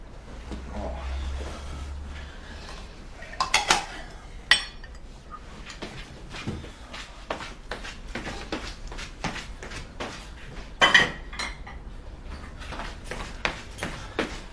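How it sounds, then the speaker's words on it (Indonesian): Dishes and cutlery clink and clatter in irregular bursts, a few sharper knocks standing out, as plates are stacked and moved close by. "Bereskan dulu piring kotormu."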